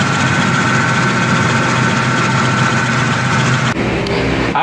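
A centrifugal pump motor in a lab test rig runs after being switched on, giving a loud, steady, close drone that holds constant throughout and dips slightly near the end.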